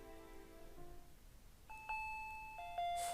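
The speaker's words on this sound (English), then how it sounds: "I finally realized it was the doorbell" A doorbell chimes in the visual novel Higurashi When They Cry, ringing repeatedly with clear bright ding tones after a fading musical passage, over a soft patter of rain.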